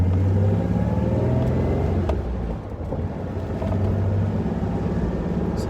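A Nissan 300ZX twin turbo driving at steady speed with a cold engine being warmed up, a continuous loud low drone with a slight dip partway through, no voices.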